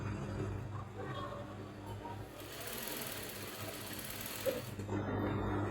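A sewing machine stitches the padding of a princess-dart bustier with a continuous fast mechanical whir, close and steady, with a slight change in pitch midway and a brief knock near the end.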